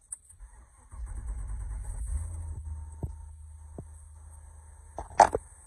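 A 1966 Lincoln Continental with a 6.0-liter LS engine swap and relatively quiet dual exhaust idles with a low, steady rumble, fairly faint, with a few light clicks and a sharper knock near the end.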